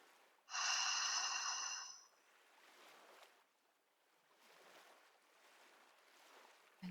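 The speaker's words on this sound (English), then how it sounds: "Just a slow, extended exhale through the mouth." A slow, extended exhale through the mouth, a close, breathy rush of air that swells quickly, holds for about a second and a half, then fades into soft, low noise.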